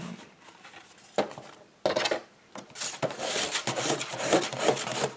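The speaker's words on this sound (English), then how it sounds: "Sorry for the scraping noise." Intermittent scraping and rubbing while making a paper handbag, close by, in uneven strokes that grow longer and busier toward the end.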